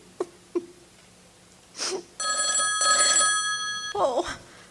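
An old telephone bell rings in one sustained burst after a couple of soft clicks, with a brief breathy voice before and after.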